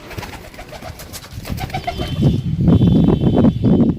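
Pigeons coo softly in short low calls, then wings flap and rustle loudly close by as the birds shuffle and move.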